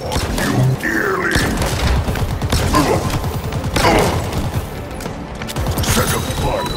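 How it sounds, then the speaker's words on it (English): A grenade goes off in Halo Infinite campaign play, a loud blast amid continuous busy game gunfire and effects, with a player's voice talking over the action. "I just threw a nade at myself."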